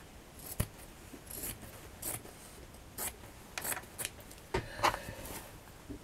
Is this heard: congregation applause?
no